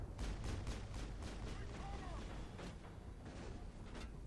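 Enemy gunfire in the video game Mass Effect, a steady clatter of shots and booms from a firefight, fairly faint and continuous under a player's talk.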